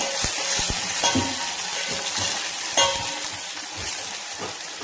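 Finely chopped onion sautéing in oil in a pan for a spicy mutton-methi curry, a steady close sizzle and hiss with occasional scraping stirs and utensil knocks throughout.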